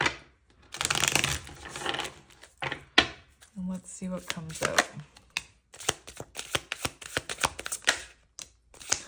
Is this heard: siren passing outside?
no